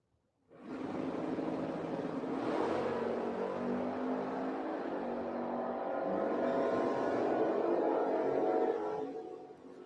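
A big block El Camino and a small tire Nova launch down a drag strip at Gainesville Raceways, engines roaring together with rising revs after a brief quiet start, then cutting off near the end.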